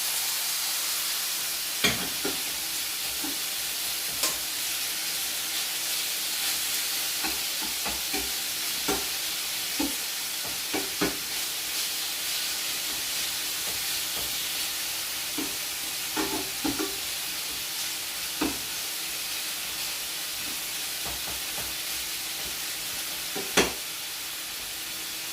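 Soya chicken pieces with jerk spice sizzle steadily in a pot, with scattered sharp clicks and scrapes as they are stirred and turned, a constant close frying hiss throughout.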